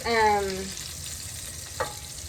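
Chicken for Cajun chicken pasta frying in a pan gives a brief, close sizzle and stir, with a soft crackle near the end.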